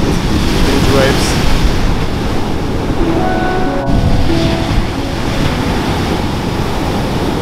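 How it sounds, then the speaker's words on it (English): Loud, continuous roar of open Pacific Ocean surf with huge waves on a remote beach, wind buffeting the microphone, waves washing in a steady wash of noise, no voices. "This is the open Pacific Ocean. It's so beautiful, so powerful, and huge waves."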